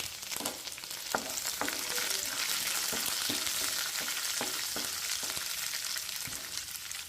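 Curry leaves sizzling in hot oil with fried peanuts for aavakaya rice, a dense continuous frying hiss broken by small crackles and the occasional clink of stirring.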